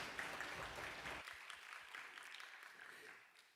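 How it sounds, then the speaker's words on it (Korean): Church congregation in Sunday worship clapping, a dense, fairly faint wash of applause that thins into scattered individual claps partway through. "하나님께 영광의 박수 올려드리겠습니다."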